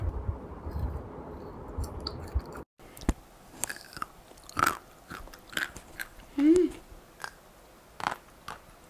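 Strawberry-flavoured ice cream bar being bitten and chewed close up, soft crunchy bites and mouth sounds scattered in short bursts, with a brief hum of enjoyment.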